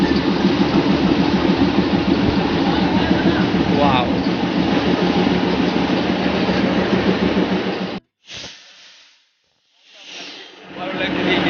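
The Darjeeling toy train runs with a loud, steady rumble and rhythmic clatter of small carriages nearby, cutting out abruptly near the end into quieter fragments, with a brief exclamation from a voice.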